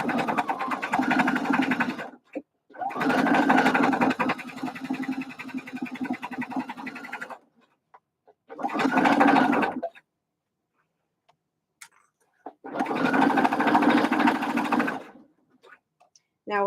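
A sewing machine stitching fabric for a bucket hat runs in four steady bursts of rapid mechanical whirring, with short quiet gaps between them and a brief reverse run to lock the stitch.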